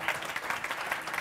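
Audience applause at an education forum teacher masterclass, a steady patter of hand clapping from a group, moderate in level and continuous for the whole moment with no voices on top.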